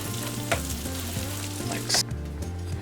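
Food slides around in sizzling butter in a hot pan, giving a loud, continuous crackling sizzle close by over steady background music.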